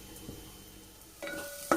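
Onions sautéing in a pan over a low to medium flame: a soft, steady sizzle broken by two sharper scraping stirs near the end.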